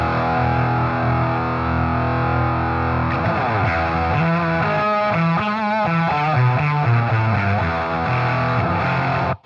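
Heavily distorted electric guitar in a Swedish death metal style, tuned low, playing sustained chugging chords and then faster riffing, loud and continuous throughout before cutting off abruptly at the end.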